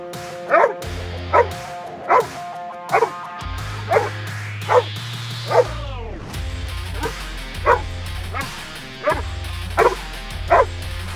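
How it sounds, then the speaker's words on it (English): Dog barking on a bark-and-hold training command, sharp barks repeating at a steady rhythm about once a second, close and loud, with whimpering yips between them. "Cherche bark."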